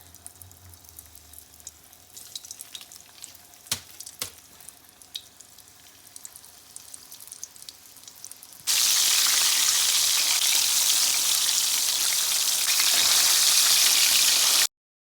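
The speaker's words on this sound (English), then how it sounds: "We're gonna start frying the fish. The oil is nice and hot." Loud, steady sizzling of snapper frying in hot oil, three pieces at a time, starting abruptly partway through after a quieter stretch with faint clinks and kitchen noise.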